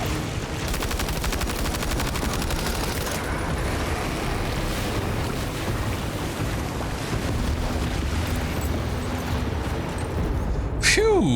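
Weapon fire in the video game Death Stranding 2 sounds as a dense, continuous burst of rapid shots under a constant roar of noise, ending with a sharp whistling sweep near the close.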